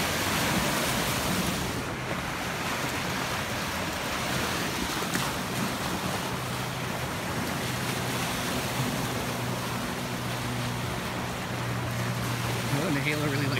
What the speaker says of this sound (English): Get those waves.